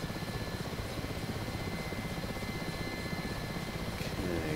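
Mi-8 helicopter in DCS World, sitting on a runway, its rotor and turbines giving a steady, loud, continuous thrum and whine that holds level throughout the takeoff run.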